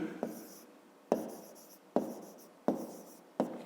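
A pen scratching on paper close up, in five short separate strokes, each starting with a sharp tap and then fading, with quiet pauses between them.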